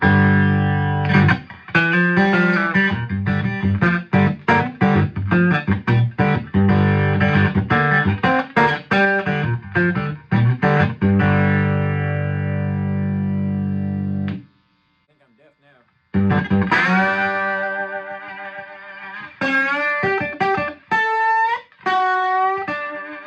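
A three-string cigar box guitar through a 1961 Fender Super amp with treble and volume turned fully up, loud gritty chugging riffs and choppy chords, a brief pause, then bent notes, close and alone.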